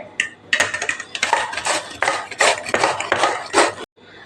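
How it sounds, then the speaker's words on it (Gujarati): Bottle gourd rubbed against a metal grater in quick, rhythmic scraping strokes, about eight to ten close, crisp passes in a row. "આપણે દૂધીને ખમણી લેવાની છે"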